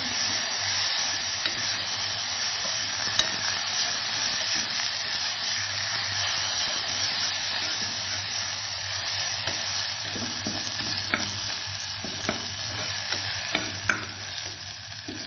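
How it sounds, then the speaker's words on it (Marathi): Onion and coconut paste sautés in a pan for a chicken rassa with cashews, producing a steady close sizzle and hiss with occasional scraping stirs and light taps, no voices. "कांदा खोबऱ्याचं वाटण टाकलं आपण. दोन्ही छान परतवून घ्यायचं इथे."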